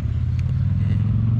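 A car rolls past a Vespa S50, a 50 cc two-stroke scooter, its steady low engine rumble loud and close, holding constant without a clear rise or fade.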